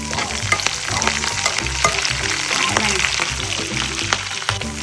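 Curry leaves hit sizzling garlic and ginger in hot oil while a Kerala-style fish pickle is made, giving a loud, close, crackling sizzle with stirring scrapes and faint voice in the background.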